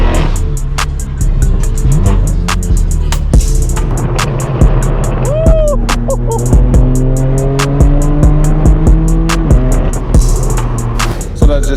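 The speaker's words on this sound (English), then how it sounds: "Oh, yo, that Miata sounds insane." Mazda Miata exhaust at a busy street car meet in Hollywood, a loud engine note rising and falling through revs beneath constant traffic roar, other engines and clattering crowd noise, with no clear talk.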